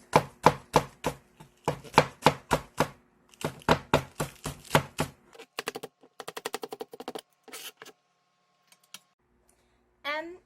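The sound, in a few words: knife chopping green onion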